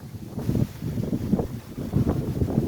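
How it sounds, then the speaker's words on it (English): Strong wind buffets the microphone outdoors at a pole barn build site with blowing dust, in low, rumbling gusts that rise and fall in uneven waves, with no voices. "it's definitely very, very windy out"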